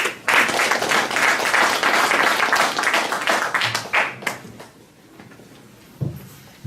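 An audience at a public debate forum in Goseong applauds a village head being introduced, a loud burst of clapping that thins and fades out toward the end, leaving a couple of sharp knocks.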